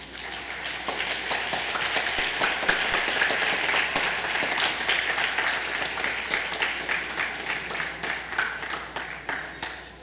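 A big round of audience applause for volunteers and participants at an annual day event, with many hands clapping in a full, steady roar that lasts about ten seconds and thins slightly toward the end.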